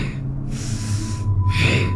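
Two sharp, forceful exhales through the nose during a fast yoga breathing drill, close and breathy, each a short hissing burst separated by a brief pause.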